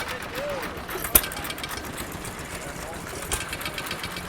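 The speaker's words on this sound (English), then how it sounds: "You want more hit-miss engine action?" An antique hit-miss engine running at an outdoor antique truck show at a railway museum, a steady low mechanical chugging with a couple of sharp metallic knocks, heard under crowd noise and background talk.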